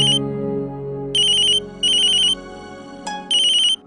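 A phone ringtone rings in repeated short electronic bursts of bright warbling tone, loud and close, over a low sustained musical background.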